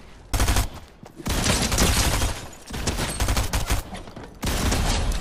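In Fortnite, a double-barrel shotgun fires in several loud, dense bursts of blasts, separated by brief quieter gaps, with no voices over them.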